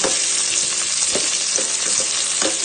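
Onion fries in a pan while ginataang tilapia is prepared, a loud, continuous sizzle with scattered stirring scrapes and taps, close up and without speech.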